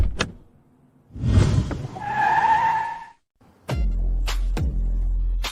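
A car skids with a long, loud tire screech that rises and holds, then cuts off, followed by a heavy low rumble with sharp impacts.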